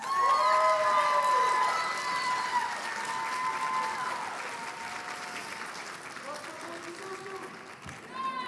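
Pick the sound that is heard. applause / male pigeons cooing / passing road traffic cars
applause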